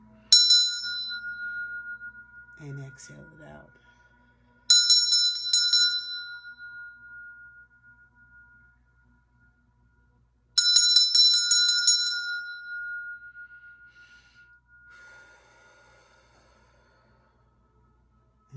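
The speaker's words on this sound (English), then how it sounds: "now ring that chakra bell" A chakra bell is struck three times, each strike ringing out bright and clear before a long, slowly fading sustain; a soft voice speaks briefly between the first and second strikes.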